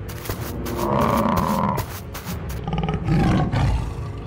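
Cartoon tigers roar loudly in two long, rough bursts, close and dominant, with a brief pause between them.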